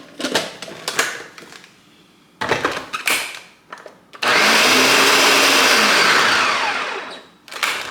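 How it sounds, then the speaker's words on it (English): A blender whirs through homemade Nutella with vanilla and a pinch of salt: a few short, choppy bursts first, then one loud, steady, sustained run that cuts off near the end. "Then we're back to blending."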